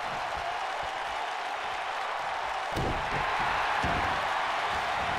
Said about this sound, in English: The crowd going crazy here in Hershey,